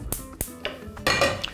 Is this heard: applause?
no